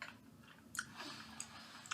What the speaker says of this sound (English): The seeds, positively crunchy, yielding, as a seed will, to my incisors.